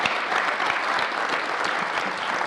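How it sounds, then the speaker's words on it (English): An audience at an astronomy expo livestream gives a speaker a round of applause, steady, loud and sustained clapping throughout with no talk over it. "Let's give Hoot a round of applause"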